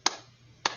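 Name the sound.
hands clapping a beat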